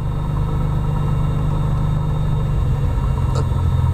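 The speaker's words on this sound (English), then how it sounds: "Now with this 1000 RPM, I will move the throttle lever to the idle position." Piston aircraft engine pulled back from around 1000 RPM to the idle position, a loud, close, continuous rumble that drops partway through and settles into a lower, steady idle note.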